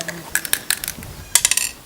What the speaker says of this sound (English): The peaceful silence is only interrupted by an emphatic sound of a dice.